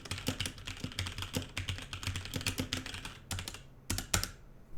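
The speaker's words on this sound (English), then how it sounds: "Here's what it sounds like when typing on the keyboard." Rapid typing on a computer keyboard, a dense stream of clicking keystrokes at an uneven rhythm, fairly quiet and close, with short pauses near the end.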